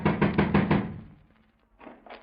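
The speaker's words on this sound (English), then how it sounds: "Better try knocking, Stone." Someone knocks on an apartment door in an old radio drama, four firm raps in quick succession, then a softer pair of knocks after a short pause.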